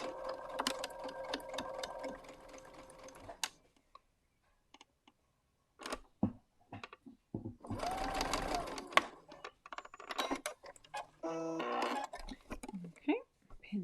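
A sewing machine runs in steady, rapid bursts as it stitches a quilt block seam for a disappearing four patch, starting with a long run, then pausing and restarting in shorter busy stretches with faint clicks and brief speech between.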